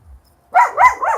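A dog barks close by in three quick, loud bursts after a moment of near silence.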